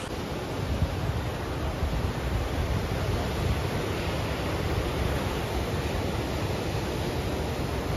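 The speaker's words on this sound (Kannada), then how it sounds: "ಆ ಅಲೆಗಳ ಶಬ್ದ." Ocean waves breaking at Rock Beach, Pondicherry, a steady broadband wash of surf rolling continuously and fairly close, with wind noise on the microphone and no voices.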